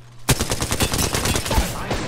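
Loud burst of automatic weapon fire in the battle-royale video game Apex Legends, starting abruptly and rattling on steadily, close and dense.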